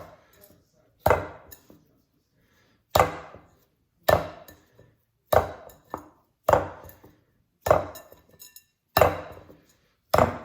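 A ball of Thai fishcake paste is slapped against the inside of a bowl again and again to firm it, eight sharp wet thuds at roughly one-second intervals with quiet gaps between.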